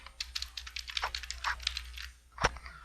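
Keys tapped on a computer keyboard, an irregular run of light clicks at close range ending in one firmer press, heard alone.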